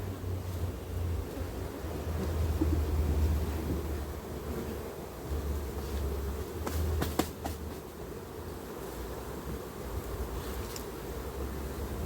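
A dense, continuous buzz of many honey bees around a hive, steady and close, with some wind rumble and a few brief knocks.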